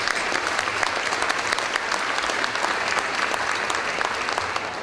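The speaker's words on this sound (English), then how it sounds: "We're going to clap on that." A luncheon audience applauds at a charity giving campaign kick-off, with dense, steady clapping from a large crowd that stays even and loud for about five seconds.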